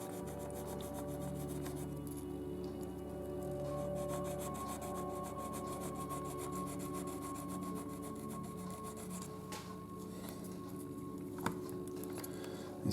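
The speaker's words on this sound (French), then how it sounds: "je choisis celui-là parce qu'il est facile à poncer" Fine sandpaper rubs steadily over a small plastic part of a 1/24 Opel Admiral Saloon model kit, a quiet, close, continuous rasping scrub with a few faint taps.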